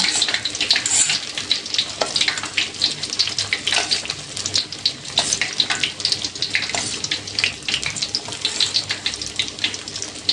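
Oil sizzles and crackles continuously in a pan, a dense steady hiss of stuffed tofu frying with no talking.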